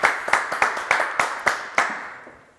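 Studio audience on a French TV show clapping for Roxy, about eight distinct, evenly spaced claps in a slow rhythmic beat, close and crisp, with a short fading tail at the end.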